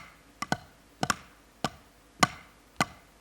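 Drumsticks play a right-right-left-left double-stroke pattern as short, crisp clicks grouped in close pairs, evenly spaced and fairly quiet, with no voices.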